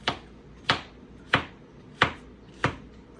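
Knife chopping yellow squash on a cutting board: five crisp, evenly spaced chops about two-thirds of a second apart, close and clear with no talking.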